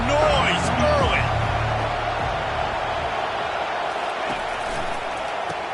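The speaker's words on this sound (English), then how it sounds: "This crowd bringing the energy and noise early." Roaring crowd noise fills a football stadium during a Stanford versus UNC game, a broad steady wash of cheering that stays loud throughout with a few brief whistle-like tones early on.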